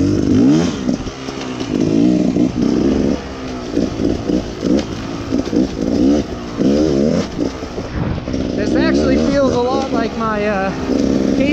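A 2018 Beta Cross Trainer 300 dirt bike engine runs steadily throughout, with changing revs and rattling clatter, while a voice talks over it for much of the time.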